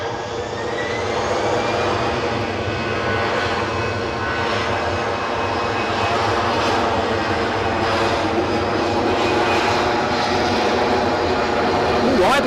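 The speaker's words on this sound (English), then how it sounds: "The EasyJet we are looking at is off to Basel." An EasyJet jet airliner heads out from Edinburgh bound for Basel, its engines holding a loud, continuous roar with a rising whine throughout, while a voice talks over it.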